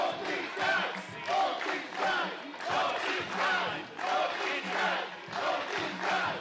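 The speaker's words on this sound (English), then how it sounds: "Let the crowd tell you all you need to hear" Arena crowd at a wrestling main event roaring and cheering in repeated surging waves, loud and dense, with shouted chants rising and falling throughout.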